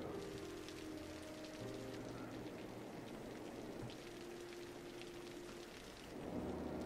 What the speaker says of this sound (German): Wenn das regnet, sieht das alles ein bisschen anders aus in dem Spiel